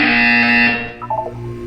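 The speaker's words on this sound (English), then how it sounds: "You will hear a buzzer." A loud, harsh electronic buzzer from the video game Portal 2 sounds once, holding for under a second before cutting off and leaving a faint electronic hum.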